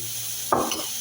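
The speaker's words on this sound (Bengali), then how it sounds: "আমি আগে পেঁয়াজটাকে ভাজি করে নিচ্ছি।" A short burst of sizzling and scraping as onions hit a hot pan or get stirred, close and fairly loud over a steady background hiss.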